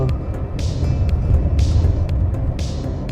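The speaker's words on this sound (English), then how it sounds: "Now I'll just accelerate to 35 using the third gear." A 2024 Tata Nexon diesel with a manual gearbox pulls steadily in third gear, its engine a continuous low throbbing rumble that rises slightly in the middle and holds at an even level from inside the cabin.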